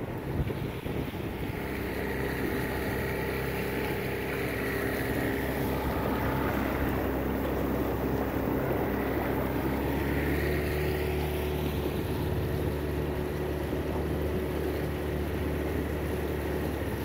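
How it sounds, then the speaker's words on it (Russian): An outboard motor drones steadily as a boat travels down a river on a fishing float trip, a continuous engine hum mixed with rushing wind noise on the microphone, with no talk. "Идем под мотором."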